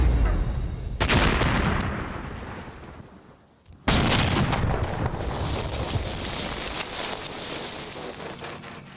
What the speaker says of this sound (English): The Taliban have opened fire with rocket-propelled grenades.